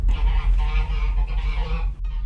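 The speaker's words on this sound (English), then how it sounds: "Them geese, they don't give me a break." Loud, continuous honking and clucking from a group of geese close by, a busy overlapping chorus that drops briefly near the end.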